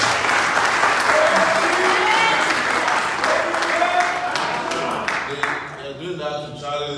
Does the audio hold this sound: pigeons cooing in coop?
no